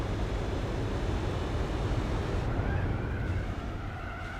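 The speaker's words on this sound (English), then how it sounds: "That V8 and that thing sounds good though." V8 engine of a Proto Motors Spira race car in Gran Turismo 4, a continuous droning roar held at a steady level, easing slightly and shifting tone toward the end, with no voices.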